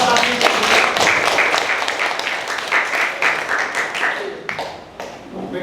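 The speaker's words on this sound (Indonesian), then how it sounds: "tepuk tangan untuk Abi." A classroom audience gives a student presenter sustained, dense applause in a teaching practice session, fading slightly toward the end.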